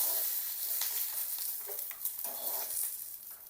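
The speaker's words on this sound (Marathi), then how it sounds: "मिरच्यावरती थोडं तेल टाकूत. चांगलं परतून घेऊत मिरच्याला." Green chilies frying in a little oil in a pan, a continuous close hiss and sizzle with intermittent crackles and light stirring, no voices.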